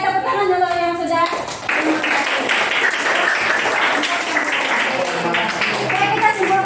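A classroom group claps together, brief lively applause that starts after a moment of talk and fades with voices underneath.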